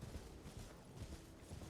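A horse's hooves clip-clop in a steady walking rhythm in Genshin Impact or Elden Ring, faint and muffled in the game audio.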